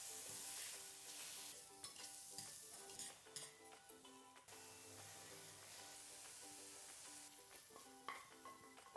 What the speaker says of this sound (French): Maintenant, on va faire sauter tous nos légumes et notre garniture séparément.